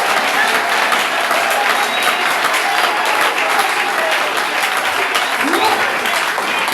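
A church congregation claps and cheers during a lively service, dense sustained applause with crowd voices filling the room at a constant loud level throughout.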